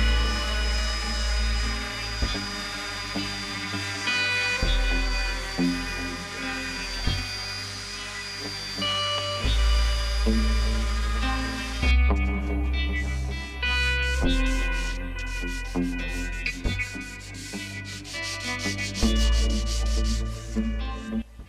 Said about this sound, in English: all we have to do is now sand it